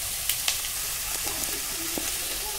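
Finely chopped carrots fry in a pan, giving a soft, steady hiss of sizzling oil broken by a few faint clicks and taps from stirring, heard close and without voices.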